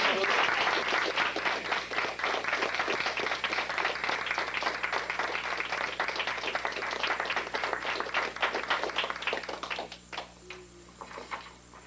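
A room of people at a 1998 Toastmasters meeting breaks into sustained applause, loud and dense for several seconds before thinning into scattered claps at the end.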